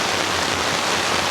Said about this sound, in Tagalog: ayun ang lakas ng ng ulan